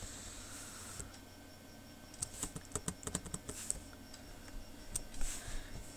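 Quiet clicks and taps of computer keyboard keys as QBasic code for a hello program is typed, a sparse start building into a busier run of keystrokes, close and soft with no talk.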